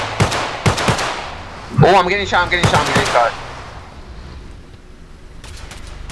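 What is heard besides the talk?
gunfire in the video game Garry's Mod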